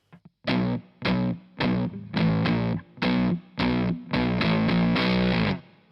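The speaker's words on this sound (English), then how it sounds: "So if I stick the fuzz on its own, you get this." Electric guitar through a fuzz pedal on an HX Stomps with a hard noise gate plays a series of loud, thick distorted stabs, each chord cut off abruptly into silence between hits, with a longer sustained chord near the end.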